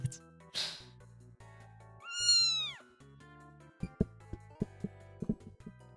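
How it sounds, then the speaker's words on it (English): One clear, drawn-out cat meow rises and falls over a low steady hum, preceded by a couple of soft rustles and followed by a series of light, irregular clicks. "Meow."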